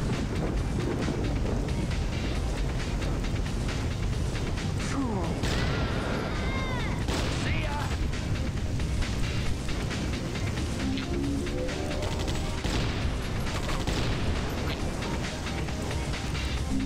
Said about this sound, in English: explosive rounds are the best.